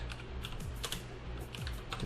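Rapid computer keyboard typing, a steady run of close, crisp keystroke clicks with irregular rhythm, entering a command for a Dragon Block C Kosmic Core plugin, with no talk.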